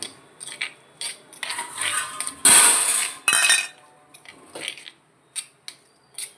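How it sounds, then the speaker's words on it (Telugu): Cucumber pieces are tossed together in a bowl for cucumber chutney, giving irregular bursts of close scraping and light clinking of a utensil against the bowl, with brief pauses between strokes and no talking. "ఈ దోసకాయ ముక్కల్ని కలిపేసుకోవడమే"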